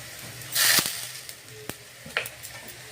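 Turmeric and chili powder fry with ginger and garlic in hot oil for palak paneer, giving a steady close sizzle with a loud hissing surge early on and sharp scraping clicks from stirring.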